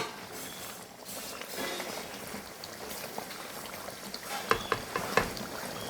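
Theeyal curry bubbles in a pot, a soft continuous simmer with small pops and a few louder clinks or bursts near the end, fairly quiet and close.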